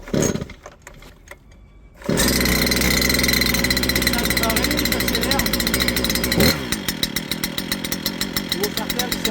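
A small engine is started with a sharp pull of its starter cord: a few rough clatters, then it catches and runs loud and buzzing, like a chainsaw, with its note shifting before settling into a steady pulsing idle close by.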